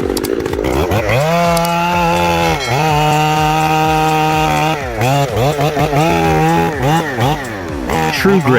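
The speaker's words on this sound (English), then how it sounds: "Watch fearless pros take on massive trees and monster stumps in the most dangerous chainsaw action ever" Chainsaw cutting a large tree, its engine close and loud, revving up and holding steady through long cuts with pitch dips and surges as the bar bites into the wood.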